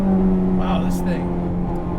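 Steady engine drone of a 1998 Acura Integra GSR with an all-motor build, heard from inside while driving, a constant low hum with tonal bands throughout under brief faint voices.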